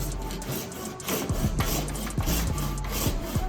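Steady back-and-forth rasping of a saw cutting through PVC pipe, close up, with a regular stroke rhythm and no talking.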